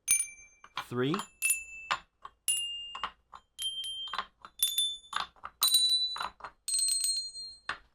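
Numbered Christmas handbells ring one after another in bright, clear, sustained tones with lingering resonance, close up, while a voice briefly counts between strikes.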